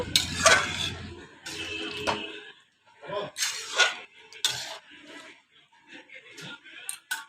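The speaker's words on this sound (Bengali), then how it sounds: "এবার আমি ভালো করে নাড়িয়ে চাড়িয়ে নেব।" Jackfruit curry is stirred in a pot, metal spoon scraping and clinking against the pan in uneven bursts with short pauses between, close and moderately loud.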